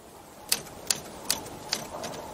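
A typewriter in a movie scene gives four or five crisp, separate key strikes at a steady, unhurried pace over a quiet room hiss, with no talk.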